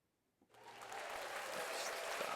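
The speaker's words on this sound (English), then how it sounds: "I know you guys missed the applause of a live audience here behind us." A recorded burst of applause from a live audience starts suddenly after a brief quiet moment and keeps going as dense, steady clapping.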